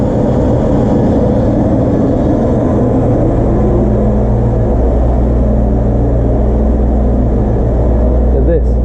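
A 1998 Land Rover Discovery 1 idles smoothly close by, giving a loud, steady low rumble that holds even and unbroken throughout with no knocks or misses.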